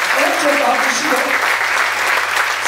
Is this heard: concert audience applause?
yes